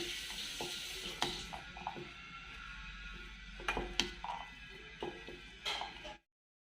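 A spoon stirs and scrapes through a dry spice mixture with ground coriander and cumin in a bowl, with intermittent sharp clinks against the rim and no voices.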